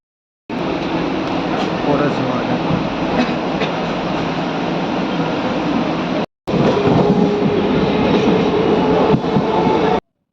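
A Kanchrapara local train running makes a loud, continuous rumbling roar heard from on board, with a brief cut partway through.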